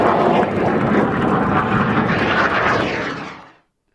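Synchro Bear display aircraft roars past at Duxford, a loud, steady broadband engine rush that holds for several seconds and then cuts off abruptly.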